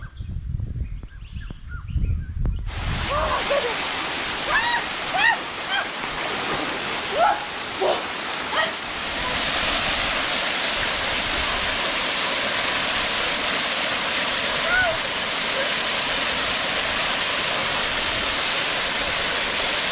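After a muffled rumbling start, water rushes steadily along Champagne Spring Creek in the Kimberley as an even, close hiss that continues throughout, with a few brief bird chirps early on.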